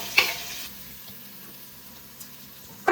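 Chopped garlic and onion frying in oil and butter for pasta give a steady, soft sizzle throughout, with a couple of brief louder stirring clatters near the start and end, no talking.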